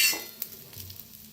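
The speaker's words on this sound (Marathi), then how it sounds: "ह्याच्यातच टाकूया धन आणि जिरं, ते बी भाजून घ्यायचं" Coriander seeds and cumin roast in an iron pan, a soft crackling sizzle with light stirring scrapes, quiet and close, with no talking.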